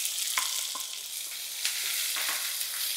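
Finely chopped onions fry in a hot spiced oil tempering for a Marathi fenugreek dish, giving a soft, steady sizzle with occasional light stirring scrapes and no talking.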